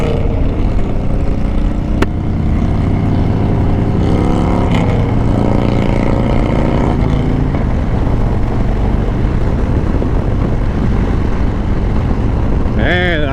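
Steady engine drone of a Harley-Davidson motorcycle with a fairing, with strong wind rush from riding, the motor pitch shifting as it changes speed, loud and continuous throughout.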